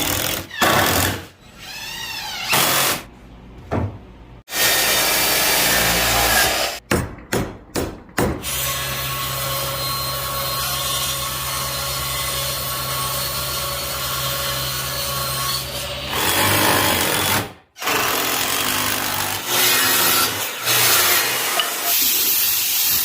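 Screws driven into a reused wooden door slab with a power driver, long loud grinding whirs broken by short bursts and pauses, close by.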